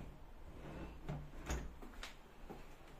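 Household drawers open and close with soft, quiet knocks and slides, several brief thuds spaced over a few seconds in a home room.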